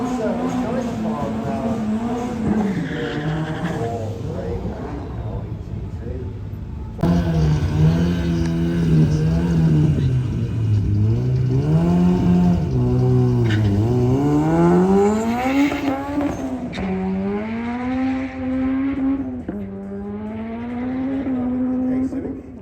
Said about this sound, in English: you can tell they're really struggling for traction. Just sort of borderline braking the wheels